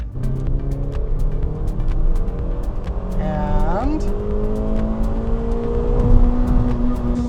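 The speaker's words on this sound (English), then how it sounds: "we're gonna try power here. Second gear, and here we go" A 125-horsepower Suzuki Swift Sport or Honda Fit RS accelerates hard in second gear, its engine note climbing steadily in pitch under a constant road and wind roar, with people talking inside the car.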